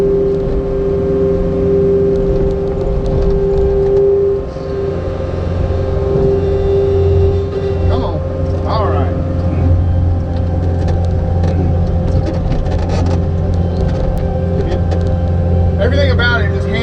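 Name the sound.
ASV skid steer engine running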